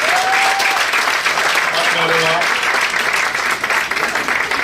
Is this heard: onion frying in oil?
no